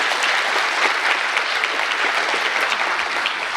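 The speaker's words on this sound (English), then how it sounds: "Please join me in giving one more round of applause to all our dignitaries." Steady, dense applause from an awards ceremony crowd, a continuous wash of clapping that holds at an even loudness throughout with no voices over it.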